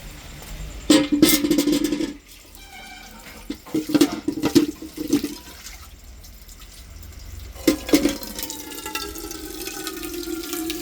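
Water pours into a bucket in a home, arriving in several splashing bursts with gentler running and dripping between them.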